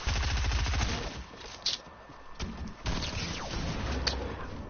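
Assault rifle fire in a video game crackles in quick repeated bursts, fairly quiet and slightly distant, with a few sharper single shots standing out.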